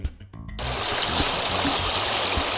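Rapids on the Menomonee River rush in a dense, steady roar of churning water that cuts in abruptly after a brief muffled moment and then continues loud and close.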